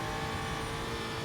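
Audi RS3 WTCR race car at about 250 km/h on the Nürburgring, a loud, steady engine and wind roar filling the short moment without a break.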